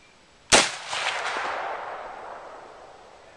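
Single rifle gunshot at an outdoor shooting range firing Hornady Steel Match ammunition from a Del-ton rifle, a sharp loud crack followed by a long fading echo rolling away.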